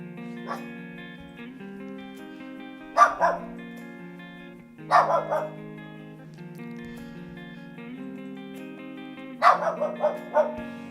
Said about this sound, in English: Say hello to my dog in the background.